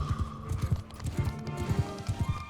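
Heavily armored horse's hooves clip-clopping in Mount & Blade II: Bannerlord, a quick, steady galloping rhythm of close, distinct hoof strikes running the whole time without talk.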